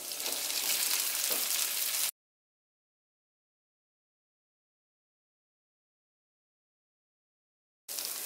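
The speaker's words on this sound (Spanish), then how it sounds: "ya están guisaditas las papas" Potatoes fry with onion in a pan for tacos de canasta, a bright dense sizzle lasting about two seconds, then complete silence, then the sizzle briefly returns at the end.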